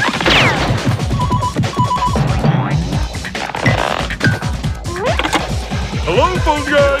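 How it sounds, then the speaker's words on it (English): A telephone bell rings in repeated short bursts through a lively animated scene, mixed with music, crashes and excited cartoon voices talking over it. "There's that ringing! Must be coming from close by!"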